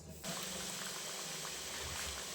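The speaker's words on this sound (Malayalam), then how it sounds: "റെഡിയാക്കി വെച്ചിരിക്കുന്ന സമോസയെ ഓരോന്നായി ഇതിലേക്ക് ഇട്ട് കൊടുക്കുക" Chicken samosas slip into hot frying oil, setting off a sudden, even, bubbling hiss that starts a moment in and holds steady and fairly soft until the end.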